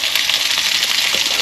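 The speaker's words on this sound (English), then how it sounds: "we're just cooking up some sausages" Sausages fry on a cooker at an outdoor campsite, giving a steady, dense, fairly loud hiss of fat sizzling with no pauses.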